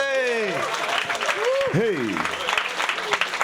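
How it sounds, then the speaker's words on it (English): An audience at the Comedy Cellar comedy club claps steadily while a man's loud, animated voice shouts over the applause. "Clap for Shane Gillis."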